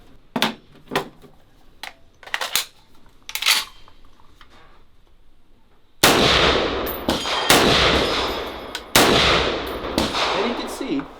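Sharp gunshots from an M305, a Chinese-made M14 clone rifle, fired in controlled sequence; loud close cracks with metallic clatter, spaced a second or so apart, growing heavier and more reverberant in the second half.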